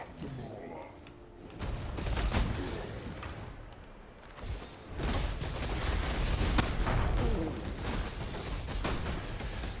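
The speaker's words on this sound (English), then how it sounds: "killing things with really big bloody explosions is awesome" Heavy, rumbling blasts and crackling bursts from Path of Exile, rolling in dense waves with brief lulls between them and a voice talking faintly underneath.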